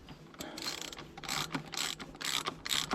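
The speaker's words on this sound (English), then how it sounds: "Now we've got a tool, which is common to most outboard engine oil filters, that just slips over the top there, and then we can wind the filter off" A wrench turns a Honda BF outboard oil filter loose, giving a series of quick ratcheting clicks and scraping bursts, quiet and close, growing busier toward the end.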